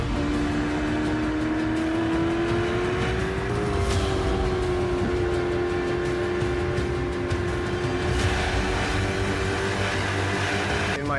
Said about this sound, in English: The way this car accelerates is like being shot out of a cannon.